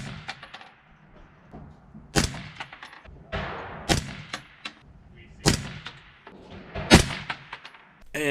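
AR15 rifle fires a test group at a target during zeroing at 100 yards, sharp loud shots ringing out one at a time with irregular gaps between them, some lighter thumps and clatter mixed in.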